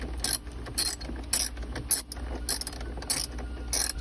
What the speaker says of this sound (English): Now we're connecting the negative, which is the ground, back into the vehicle.